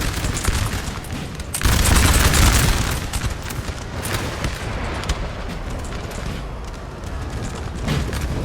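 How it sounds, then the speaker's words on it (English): Artillery fire in Napoleon: Total War, a continuous rumbling barrage of cannon blasts and musketry, with a louder surge of booms early on before settling into a steady, dense roar of distant battle. "that artillery is just going to tear them up"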